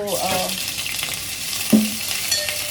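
Cinnamon, black pepper and crushed ginger and garlic frying in a pan, a steady soft sizzle with brief stirring clatters and a faint background voice.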